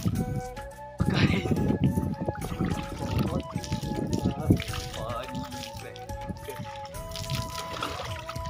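Cold water poured over someone bathing outdoors in the hills: repeated splashing pours and trickles come in bursts, moderately close, with talking running over the sounds.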